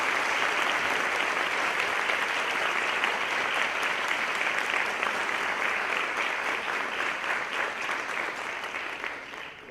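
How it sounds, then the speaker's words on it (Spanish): A large audience at a school event gives students a sustained round of applause, dense and even clapping that continues for nearly ten seconds and tapers off gradually toward the end. "Yo quisiera pedir para ellos un aplauso especial."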